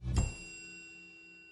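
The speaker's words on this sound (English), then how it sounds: "The record then finishes off with a singular chime of a triangle" A single triangle chime closing a track on an album: one bright metallic strike with a long, clear, slowly fading ring, heard alone.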